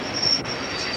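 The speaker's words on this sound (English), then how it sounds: "The train now approaching platform 1 is the 118 from Carlisle" A train approaches a station platform at Stafford, heard as a continuous broad rumble of rail noise with a faint thin wheel squeal above it.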